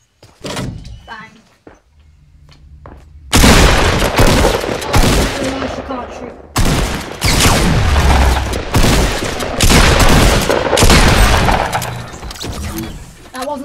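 Pump shotgun fire in the video game Fortnite, loud bursts of repeated blasts in two dense stretches after a quieter opening, with game sounds and no clear talk.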